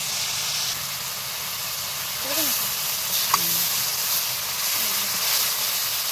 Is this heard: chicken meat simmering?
yes